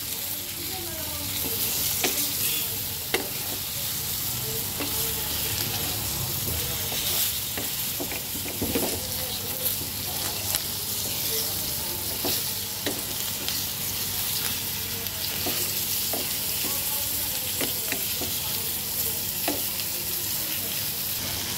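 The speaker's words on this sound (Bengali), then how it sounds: "এখন আমি এটাকে সুন্দর করে কষাবো।" Mixed vegetables stir-fried and sautéed in a pan as a vegetable dish is cooked, with a steady, close sizzle running throughout and scattered scrapes and clicks of stirring.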